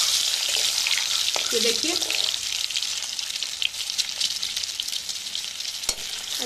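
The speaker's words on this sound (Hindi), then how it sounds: "बाकी के बचे भी 4 अंडे हम यहाँ पर फ्राई कर लेंगे।" Boiled eggs fry in a pan with turmeric for an egg curry, giving a continuous close sizzle with some stirring clicks, while a voice speaks briefly.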